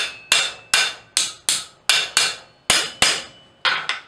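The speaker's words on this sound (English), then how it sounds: "Forge it a square corner." A blacksmith's hammer forging a square corner on hot metal, about ten sharp, ringing close-up blows struck in a steady, slightly uneven rhythm, each decaying quickly before the next.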